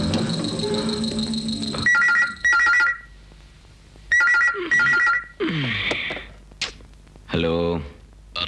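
A telephone rings at midnight, loud and near, in several repeated bursts of ringing separated by short pauses, with some background tones and a few sharp clicks between the rings.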